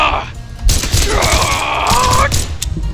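Rapid bursts of cartoonish gunfire crackle and boom in a chaotic Brawlhalla match on PC, loud and close, with players shouting over the action.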